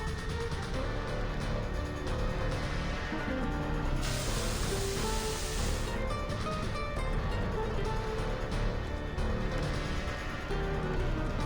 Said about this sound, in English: What are you spraying?